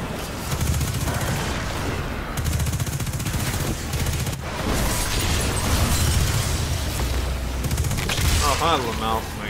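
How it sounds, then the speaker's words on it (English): Explosions and gunfire from the video game Destiny 2: Witch Queen, with dense, overlapping blasts and rapid shots rattling continuously for nine seconds, loud and busy throughout. "All the explosions, bro. All the explosions."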